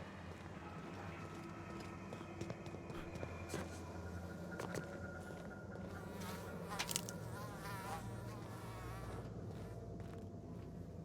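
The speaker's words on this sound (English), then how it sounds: "Why is every game nowadays has to put the sound of flies buzzing around?" Flies buzz around the player in the video game The Outer Worlds, a faint continuous insect drone that wavers in pitch as the flies drift close and away, with soft ambient background and no talking.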